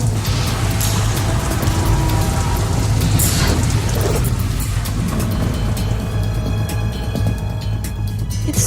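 Steady rain pours down in the video game Metal Gear Solid 2: Substance, with a low rumbling backdrop, loud and continuous, with brief clattering bursts early on.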